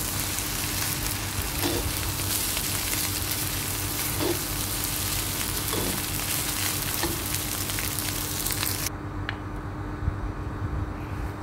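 Shrimp teriyaki fried rice with spring onion sizzles steadily in a hot pan, a continuous loud frying hiss with occasional soft scrapes of stirring, cutting abruptly quieter near the end.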